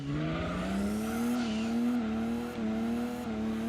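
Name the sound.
race car tyres squealing in Gran Turismo 2 video game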